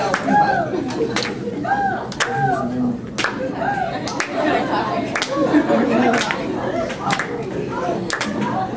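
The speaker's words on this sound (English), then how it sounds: "All right, we got to clap" An audience at a conference spoken-word performance claps in a steady rhythmic beat, sharp regular claps about once a second, with a performer's voice and crowd chatter running over the clapping throughout.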